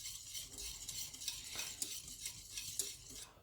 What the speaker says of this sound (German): jetzt lasse ich das Ganze noch einmal aufkochen. Muss ich auch den Herd wieder anstellen. So. Und aber immer schön rühren.